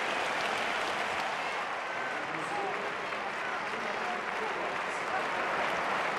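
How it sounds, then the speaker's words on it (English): A stadium crowd applauds steadily and loudly after Jonathan Edwards' 1995 triple jump world record, a dense, continuous roar of clapping filling the whole stretch. "The crowd anticipating something special once again from Jonathan Edwards of Great Britain"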